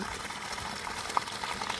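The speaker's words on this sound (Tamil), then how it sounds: "தண்ணி நல்லா அருமையான ப்ரெஷர் ஒரு மணி நேரத்துக்கு முப்பதாயிரம் லிட்டர் எதிர்பார்க்கலாம்" Water gushes steadily from the outlet pipe of a 500-foot borewell driven by a 3000W BLDC motor through 63mm pipe, a continuous loud hissing rush with no talk.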